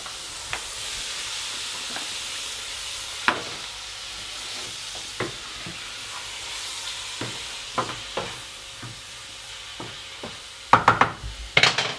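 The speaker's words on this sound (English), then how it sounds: "you get your squid, your mussels and your king prawns, and you also put them in there" Squid, mussels and king prawns sizzle steadily in a pan, a soft continuous hiss broken by scattered clicks and pops, with a cluster of louder crackles and clatters near the end.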